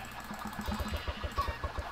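A Minecraft chicken clucking, a quick series of short, regular low pulses, close and moderate in level, alone without talk.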